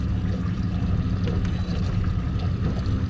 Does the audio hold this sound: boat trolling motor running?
yes